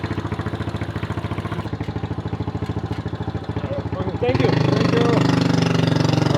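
A motorcycle engine idles with a steady, even rumble, then shifts to a slightly louder and rougher tone partway through; a voice speaks briefly.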